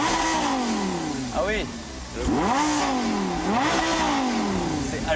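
A Lamborghini LP 560-4 sports car engine, warmed up, revs repeatedly, pitch sweeping up and down through several loud throttle blips close by, with a brief spoken remark.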